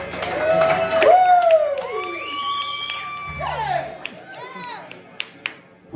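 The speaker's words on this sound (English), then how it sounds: "Let's clap." Clapping mixed with whooping, cheering voices for a band, lively and fairly close, with rising and falling shouts over the patter and a few sharp claps near the end.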